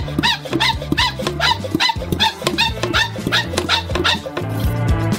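Air is hand-pumped into a sealed container to build pressure for steaming crab in a stove, giving a steady series of squeaky, rhythmic strokes about twice a second over background music.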